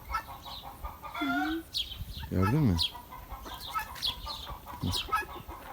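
Chickens cluck in short bursts around a person talking nearby, with a louder rising call from one bird partway through.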